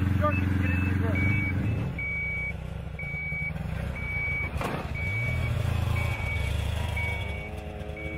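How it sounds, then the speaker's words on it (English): Steady high reversing beeps pulse regularly over a rumbling truck engine, with air hissing and mechanical clunks midway and speech-like sounds mixed in the low range. "as long as it's beeping like that"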